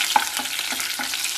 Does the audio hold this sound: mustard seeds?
yes